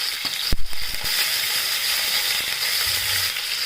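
A tempering of mustard seeds, cumin and green chili frying in hot oil, a continuous close sizzle with a couple of brief pops and clatters near the start, no speech.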